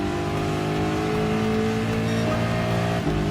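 Ford GT LM Spec II race car in Gran Turismo Sport, engine holding a loud, sustained harmonic drone at high revs, with a brief dip and shift near the end as the gear or throttle changes.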